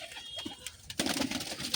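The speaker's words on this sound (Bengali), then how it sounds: "আজকে খেলা মারা পায়রা দেখাবে" Tumbler pigeons coo close by, with a few soft calls at first and then a fuller, louder burst of cooing in the second half, with no voices.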